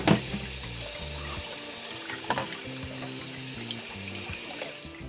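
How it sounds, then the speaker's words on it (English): Water pours and splashes steadily into a sink or strainer as boiled noodles are drained, with a continuous rushing hiss and occasional clinks. "my noodles was boiling for about 4 minutes, and I'm draining them"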